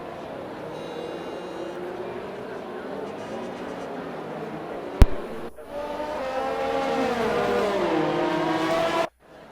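Race cars on a formation lap in a racing video game at a Belgian circuit hum with a continuous engine drone that swells into louder revving, a sharp click partway through, and commentary talking over the cars.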